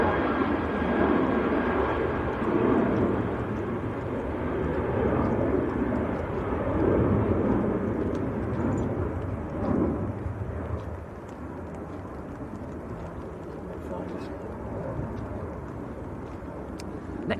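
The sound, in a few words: aircraft departing Manchester Airport, outbound to Santander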